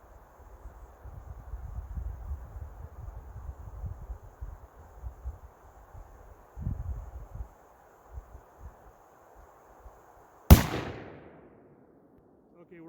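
A single sharp, loud gunshot from a Thompson Center Compass II .223 bolt action rifle cracks out near the end, ringing briefly into silence after a stretch of low rustling and handling noise.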